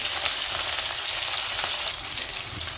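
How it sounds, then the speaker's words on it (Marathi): Green chilies frying in hot oil with cumin and mustard seeds, a dense continuous sizzle with faint crackles, steady and close, easing slightly toward the end, no voices. "आता आपण आधी मिरची टाकू। मिरचीला थोडंसं परतून घेऊ आधी।"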